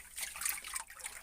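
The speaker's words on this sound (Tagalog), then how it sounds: "Ito ipapakita natin sa inyo na may tubig na ang ating balon." Water trickles in a newly dug well, a faint, continuous dribbling with a light splashing texture, heard alone without voices.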